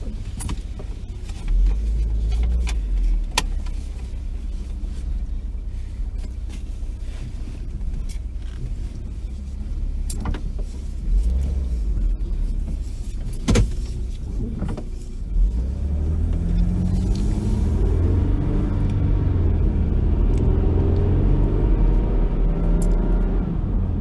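A 2004 Lexus RX330 with ignition coil misfire codes P0306 and P0356 rolls along on a test drive, a steady low cabin rumble building louder in the latter half, broken by scattered clicks and knocks, with no talking.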